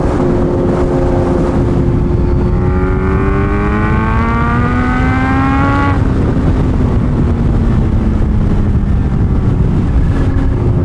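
A loud motorcycle engine roars and revs, its pitch climbing sharply then dropping back, with heavy rumbling noise throughout and no voices.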